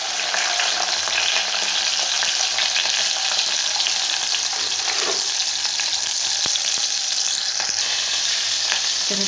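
Chopped onions fry in hot oil in a home kitchen pan, a steady loud broadband sizzle throughout with occasional stirring clicks and scrapes, no voices.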